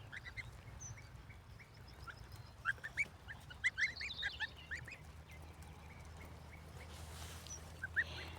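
Two-week-old goslings graze outdoors, giving a scatter of thin, high peeping calls in short bursts over a low steady hum, faint and without voices.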